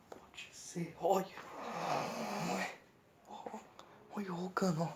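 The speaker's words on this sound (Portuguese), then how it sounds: "Mamãe tá roncando muito alto" A sleeping woman snores loudly in several rasping bursts at close range, separated by pauses, while someone whispers quietly between the snores.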